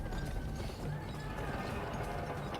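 Horse hooves gallop in the Western video game GUN, a fast, steady pounding rhythm that stays loud and continuous under dense game noise.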